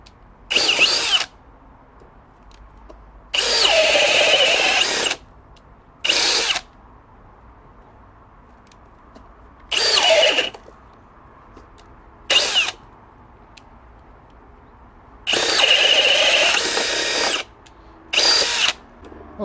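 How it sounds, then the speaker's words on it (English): A Milwaukee M18 2904 cordless hammer drill bores with a self-feed bit in repeated bursts, some short and some several seconds long, loud and close, with quiet pauses between each run. "I'll be making a hole with that. I have it set to number 2, and it's on drill."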